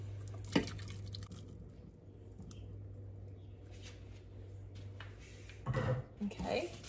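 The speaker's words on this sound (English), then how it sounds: "then we're going to add our berries" Canned blackberries are tipped into a pot holding 16 ounces of water for a blackberry cobbler, giving wet plops, squishes and drips in a cluster near the end after quieter handling sounds, with a low voice in the background.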